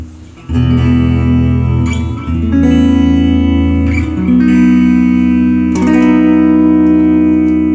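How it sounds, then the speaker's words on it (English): Squier Affinity Telecaster electric guitar chords ringing out with echoing delay and spacious reverb, strummed changes trailing into washes of sound. "Let's go ahead and add some delay and reverb."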